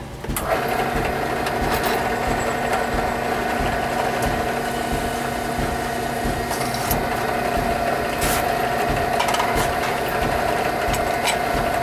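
A drill whirs steadily and continuously while boring belt-loop holes through a Kydex OWB holster, the motor tone holding a constant high pitch throughout with no talking.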